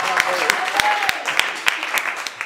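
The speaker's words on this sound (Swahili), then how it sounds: "Hebu mpigie Yesu makofi mengi ya shukrani" A church congregation claps in thanksgiving during a worship service in Iringa, Tanzania: dense, steady crowd applause with sharper individual claps standing out, and voices audible alongside it.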